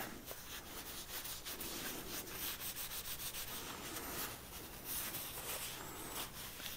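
Finish is rubbed by hand into a wooden surface, making a close, quiet, continuous rasping friction with steady back-and-forth strokes.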